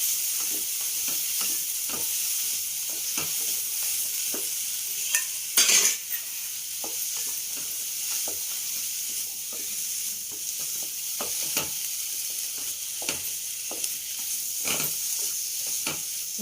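Ingredients are dry roasted in a pan with no oil for a cucumber dal dish. A spatula scrapes in irregular strokes over a soft, constant hiss, with one brief louder rattle partway through and no voices.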